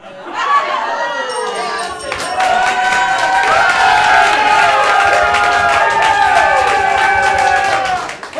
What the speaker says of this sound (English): People actually cheering for that.